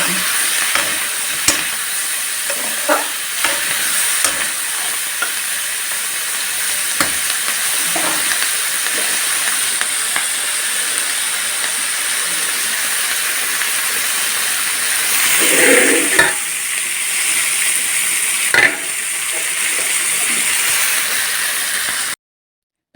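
Greens cooking in a pan on a home stove give off a steady sizzling hiss, with repeated utensil scrapes and stirring clatters scattered through. A brief louder burst of sizzle comes near the end, and nobody speaks.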